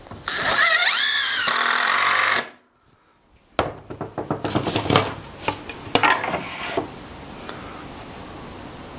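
A power drill whines at high speed, then after a brief silence drives screws into a wooden table leg in a string of sharp, close bursts and clicks of varying loudness.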